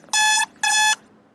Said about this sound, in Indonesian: alarm bahwa ada permintaan masuk ke laboratorium